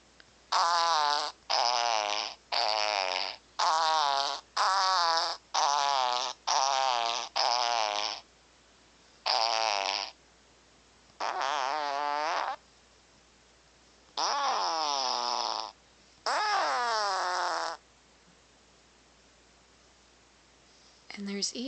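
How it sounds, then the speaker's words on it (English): Fart piano sound effects from a phone fart soundboard app: a rapid run of short, buzzy fart tones at different pitches, then a few longer, separated ones, loud and close with quiet gaps between them. "And the fart piano."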